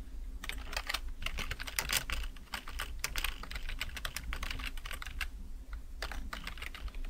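Steady, fast typing on a computer keyboard, with close, crisp key clicks running continuously in bursts and no talking.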